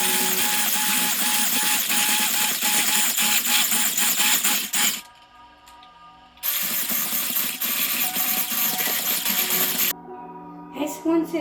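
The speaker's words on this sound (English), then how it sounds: "you can get your electric hand whisk and start to mix them together" An electric hand whisk beats shortbread dough with a loud, steady whirring drone. It cuts out briefly around the middle, then runs again and stops near the end.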